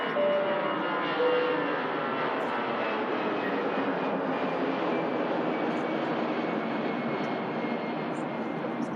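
Jet2 Boeing 757 departing Manchester Airport in falling snow, a loud, steady broadband engine roar that holds without pause from start to finish, close and dominant with no talk over it.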